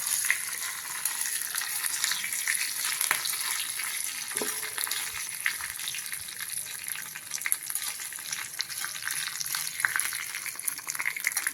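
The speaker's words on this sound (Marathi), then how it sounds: "त्याला थोडंसं असं परतून घ्यायचं छान असं छान परतलं जातं बघा" Steady sizzling and crackling of cucumber salad tempering being sautéed in a hot pan, continuous and fairly close, with occasional stirring scrapes and no talking.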